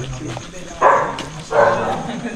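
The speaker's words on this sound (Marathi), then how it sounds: "कुत्रा भुकतोय" A dog barks twice in two short bursts, a moment apart, at moderate distance outdoors near the Ballaleshwar Ganpati temple in Pali, with faint background murmur between the barks.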